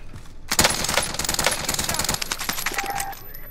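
Rapid bursts of automatic gunfire from a weapon in the Warzone video game, loud and close, crackling in quick volleys for several seconds with a brief pause near the end.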